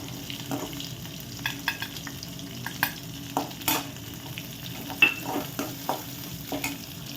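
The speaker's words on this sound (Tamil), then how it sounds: "பாருங்கள், இந்த அளவுக்கு வெங்காயம் வதங்கிடுச்சா" Small shallots and curry leaves sauté in oil for rice rava upma, a soft, even sizzle punctuated by regular clicks and scrapes of a stirring spoon against the pan, nobody speaking.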